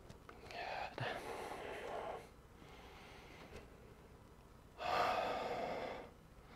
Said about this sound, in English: Breathing in deep.